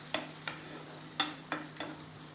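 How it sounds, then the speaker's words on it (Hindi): A spoon stirring tomatoes in a pan for dahi aloo, heard as five distinct scraping strokes at an uneven rhythm over a faint low sizzle, close and fairly quiet. "टमाटर को हम अच्छे से चला लेंगे।"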